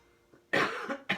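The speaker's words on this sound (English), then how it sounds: "been having this cough" A short throat sound, then two sharp coughs close to the microphone, the second after a brief pause.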